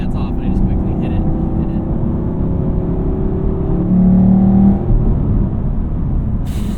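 A 2019 Camaro SS 1LE without a supercharger accelerates hard, its engine droning loudly and steadily from inside the car with rising and sustained tone, briefly swelling louder near the end of the pull.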